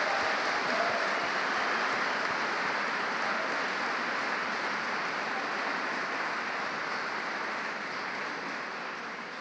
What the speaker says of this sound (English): I would like all the graduates to show their appreciation of the support they've had by giving them a warm round of applause